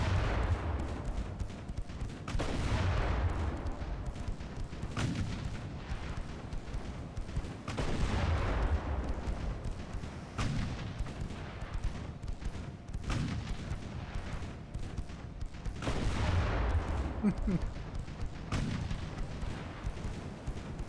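Naval gunfire from warships in the video game Ultimate Admiral: Dreadnoughts, a sustained run of heavy booming shots at irregular intervals, loud and continuous with no speech over it.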